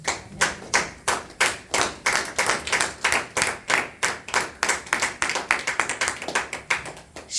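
A church congregation claps in steady rhythm during a Christian service, keeping an even beat of sharp hand claps throughout, with no voices heard.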